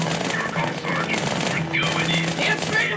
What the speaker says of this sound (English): you will begin to tear into the grunts with your 2 SMGs.